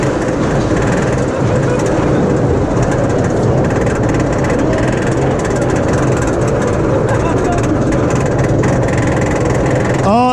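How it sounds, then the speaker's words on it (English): An RMC roller coaster, Zadra at Energylandia, climbing its lift hill with the rider in the front row: a loud, steady mechanical rumble and rattle runs throughout, near and continuous, and a voice is briefly heard at the very end. "what is it with RMCs and making noisy lift hills?"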